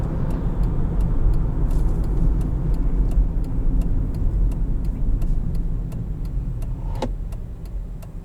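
A 2008 Honda Pilot cruising on the road, heard from inside the cabin as a steady low engine and tire drone with faint regular ticking clicks over it, no talk.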